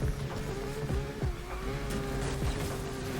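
A Ferrari LaFerrari drifting in the Need for Speed video game, its engine droning loud and continuous with pitch dips at gear shifts and tire squeal layered over the top.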